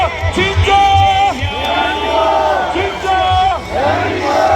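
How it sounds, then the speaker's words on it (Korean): A large crowd at a political rally for Lee Jae-myung in Yeouido shouts a chant in loud, rhythmic bursts, voices rising and falling together in a dense, close roar. "여러분 아직 우리의 함성이 부족한 것 같습니다. 다시 한번 외치겠습니다."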